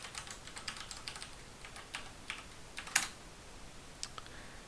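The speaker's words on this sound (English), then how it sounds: "I'm going to put our password in." Quick, light clicks of a password being typed on a computer keyboard, a steady patter of keystrokes with one sharper tap near the middle, heard close and alone.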